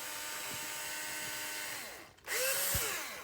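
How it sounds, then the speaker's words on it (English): A power drill with a 7/32 bit bores a pilot hole for a number 6 flathead screw while installing a Keeni Top: a steady whine for about two seconds, then a brief dip as it breaks through and spins up higher. "You take your drill, and then just"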